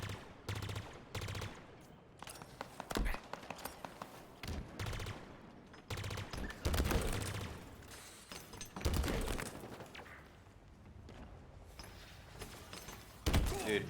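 Grenade blasts and gunfire in a Halo multiplayer match, with repeated loud bursts and automatic fire in close, dense clusters, a few heavy booms standing out near the end.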